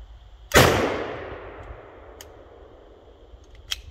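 One sharp, loud report from a CZ-52 pistol at a shooting range, followed by a long decaying echo and a couple of faint later clicks.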